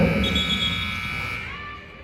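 A basketball game's end-of-quarter buzzer sounds as one long steady electronic tone, loud and continuous for about two seconds, ringing over faint crowd noise in the arena.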